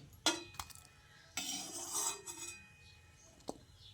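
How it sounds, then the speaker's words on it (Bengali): Boiled tomatoes, onions, garlic and ginger lifted from water with a metal strainer, giving a few sharp clinks and scrapes of metal against a pot, with a wetter rattling burst in the middle, close and moderately loud. "এগুলো আমি একটা ছাঁকনার সাহায্যে ছেঁকে এইভাবে তুলে নিচ্ছি।"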